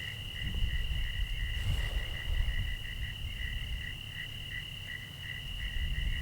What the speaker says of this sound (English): There's heaps of frogs here, tons of frogs.